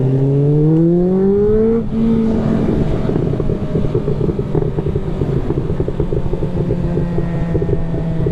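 A car engine rises in pitch as it accelerates, then rumbles on steadily nearby with wind buffeting the microphone.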